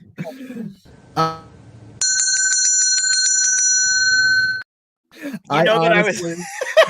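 A bright metallic bell rings out repeatedly in a rapid series for a couple of seconds, framed by close talking and a chuckle before and after.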